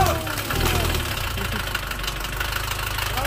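A leaking Mercedes engine turns over and settles into a steady, close idle with a low rumbling knock, voices briefly audible over it.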